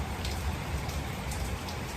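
Steady rain falling in Patna, a dense even patter of drops on surfaces, moderately quiet and continuous with no voices.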